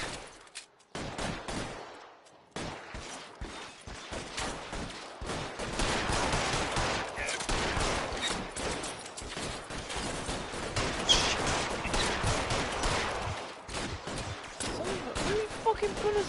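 Dense, continuous gunfire in the video game L.A. Noire, many rapid overlapping shots forming a sustained fusillade that keeps going for the whole stretch, with a voice speaking over it at times.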